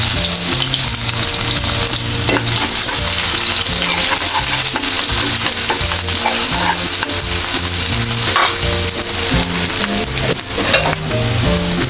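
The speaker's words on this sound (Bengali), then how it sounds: "আমি এখন তেল দিয়ে দেবো, কিছুটা কাঁচামরিচ দিয়ে দেবো।" Green chillies frying in hot oil in a pan, a loud dense sizzle with steady crackling and some stirring, close up and continuous throughout, no talking.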